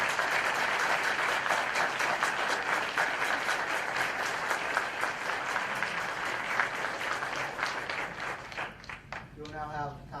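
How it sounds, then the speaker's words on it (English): Audience applause at a national championship event, sustained dense clapping filling nearly the whole stretch before tapering off at the end, where a voice begins speaking. "Can we please give them a round of applause?"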